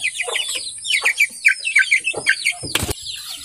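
Native chickens cluck in a quick, busy series of close calls. A brief flutter or scuffle bursts in near the end.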